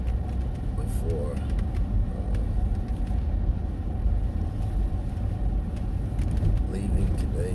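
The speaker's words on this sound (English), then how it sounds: "I was just kind of letting the car, run for a minute before" A car engine idles inside the parked vehicle before driving off, a steady low rumble that holds evenly from start to finish with no talking over it.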